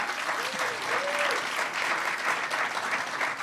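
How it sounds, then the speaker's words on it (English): Audience applause after a session of lightning talks at a hacker conference, a dense, steady wash of clapping from a sizable crowd that holds across the whole stretch, with a brief voice faintly under it early on. "And one last final round of applause for all the lightning talks."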